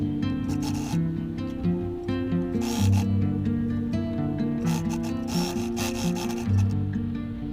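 A sewing machine stitches the fabric base of a cosmetic travel pouch, a continuous mechanical whir with rhythmic needle chatter that briefly pauses and resumes, close and steady throughout.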